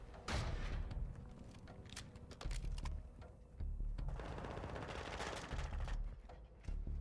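Rapid bursts of automatic fire from the Minibak submachine gun in Modern Warfare 2, loud and close, with repeated sustained volleys separated by short pauses and no talk.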